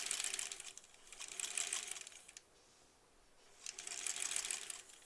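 A sewing machine stitching a quilt block, fast close mechanical needle chatter in two bursts with a quiet pause between them, fairly soft overall.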